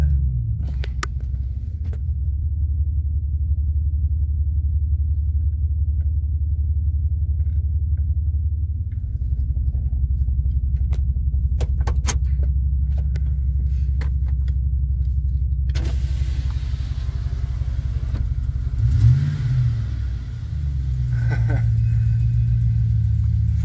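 A pickup truck engine rumbles low and steady throughout as it backs up, shifting slightly in pitch as the vehicle moves, with a faint whine and creak near the end.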